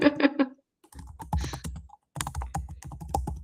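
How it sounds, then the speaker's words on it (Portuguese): Typing on a computer keyboard, rapid clusters of close key clicks in two bursts separated by a brief pause, with a short tonal sound at the start. "Tem alguém digitando algo."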